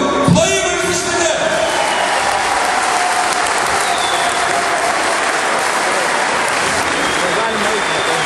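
A large arena crowd at a basketball league honouring ceremony for Žydrūnas Urbonas in Utena breaks into sustained, loud applause, steady and dense throughout with scattered cheers.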